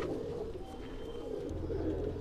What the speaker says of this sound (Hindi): सेल के लिए भी बहुत सारे कबूतर निकाले हैं इन्होंने